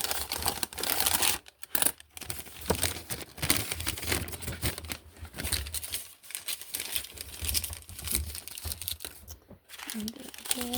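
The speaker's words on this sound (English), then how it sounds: "let's just unwrap it all" Hello Kitty Miniverse toy pieces are unwrapped from plastic packaging, giving dense, continuous crinkling and rustling close by with small clicks and brief pauses throughout.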